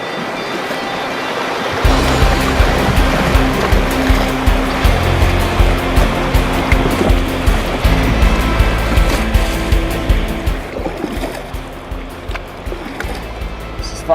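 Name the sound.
whitewater rapids on the Haw River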